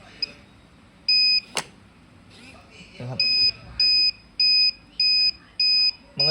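An automatic smart medicine dispenser box sounds its reminder alarm, a run of short, bright, evenly spaced electronic beeps in repeating bursts, with someone talking before and between them.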